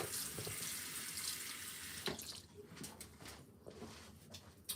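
Tap water runs steadily into a sink to wet a towel. The flow is a broad, continuous hiss that breaks up after a couple of seconds into splashes and softer trickling, with a few louder bursts near the end and no speech.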